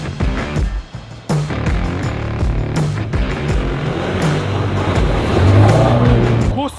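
A car drives on a slippery road with no grip, its engine droning loud and close with surges of revving and a few sharp knocks and bumps throughout.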